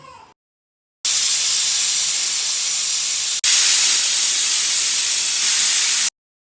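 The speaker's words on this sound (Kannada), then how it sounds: "ಈಗ ಕುಕ್ಕರ್ ಕ್ಲೋಸ್ ಮಾಡ್ಕೊಳ್ಳಿ, ಚೆನ್ನಾಗಿ ಬೇಯಿಸ್ಕೊಳ್ಳಿ." Pressure cooker cooking mutton gravy, letting out a loud, steady hiss of venting steam that holds for about five seconds, breaks briefly, then continues before cutting off.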